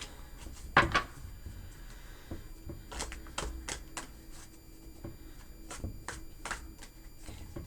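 Tarot cards being shuffled by hand up close, a series of quiet, irregular riffles and soft taps scattered over several seconds with no talking.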